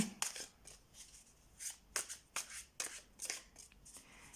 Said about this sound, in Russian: Перемешаю карты.